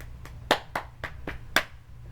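During a cheerleading tryout routine, a group claps in a sharp, spaced rhythm, about seven crisp claps with a couple of louder accents, over a quiet low hum.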